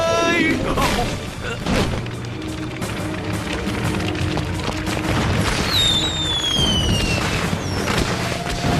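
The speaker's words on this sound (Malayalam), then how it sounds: "പടക്കം പൊട്ടാൻ പോവാണ്." Firecrackers burst during a Diwali scene in an animated cartoon, a rapid crackling volley of pops and booms with whistling rockets rising near the end.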